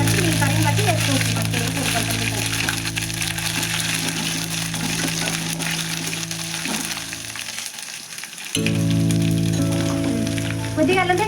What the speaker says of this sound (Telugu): కొద్దిగా అల్లం పేస్ట్ వేస్తున్నానండి.